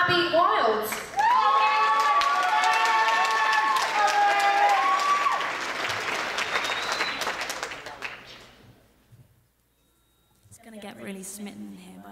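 Loud applause and cheering from a large audience at a singing competition, sustained for several seconds before tapering off, followed by quieter crowd murmur.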